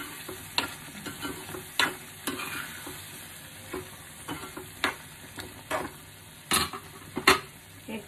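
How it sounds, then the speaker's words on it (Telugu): A spoon scrapes and stirs through gongura egg curry in a pan after coriander powder goes in, giving a soft sizzle under irregular close scraping and clacking strokes. "ధనియాల పొడి వేసిన తర్వాత దీన్ని మంచిగా కలుపుకోవాలండి"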